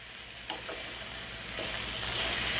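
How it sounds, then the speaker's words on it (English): White onions sizzle steadily in a frying pan as they soften, with a continuous close hiss that swells slightly louder toward the end, plus a few faint stirring scrapes and no talking. "we're gonna wanna just soften the onions"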